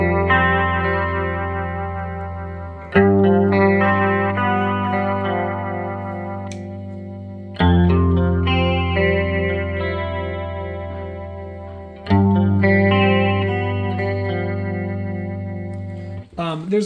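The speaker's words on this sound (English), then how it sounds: "here's kind of the chorusy sound" Electric guitar through a chorus pedal on a pedalboard, sustained chords with a shimmering, wavering tone, each strum ringing out and slowly decaying before the next, loud and close.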